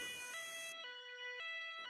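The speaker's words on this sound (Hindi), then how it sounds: "कालू आगे आगे उड़ रहा था और एम्बुलेंस पीछे पीछे आ रही थी।" An ambulance siren wails in a Hindi animated cartoon, a clear two-tone electronic siren alternating pitch several times, loud and alone.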